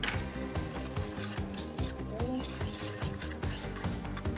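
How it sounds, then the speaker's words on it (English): Dry flour, graham cracker crumbs, oats, baking powder and kosher salt stirred together in a bowl, giving a steady close scraping and rustling with repeated spoon strokes and faint clinks, and no talking. "We're just going to stir those together."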